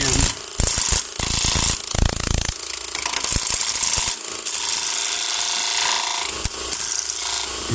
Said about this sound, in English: First thing I'm going to do is turn a small, very shallow tenon